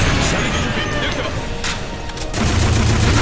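Sustained rapid gunfire and crashing impacts from a weapon in Earth Defense Force 4.1, a game where soldiers fight giant ants on a seaside stage, loud and dense throughout with no talk over it.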